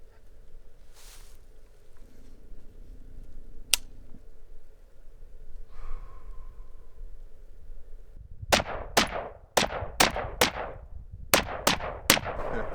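A rifle fitted with a 4x20 carry-handle scope fires about eight sharp, loud shots in a fairly steady rhythm at a 3-inch target outdoors, following a quieter stretch with a single earlier crack.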